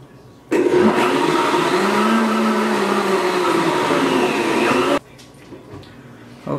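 A BlendTec blender whirring through a green smoothie, a loud steady motor roar starting abruptly and cutting off sharply after about four and a half seconds, with quieter room sound on either side.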